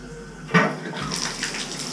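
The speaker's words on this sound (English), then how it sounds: "Put some water in the trap." Water gushes from a faucet after a brief clunk, a steady broadband splashing rush that continues close by, with no voices.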